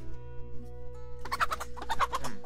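Pixel art chickens in the pirate game Pixel Piracy cluck in a quick burst of several squawky calls over a quiet sustained game music tone, with no speech.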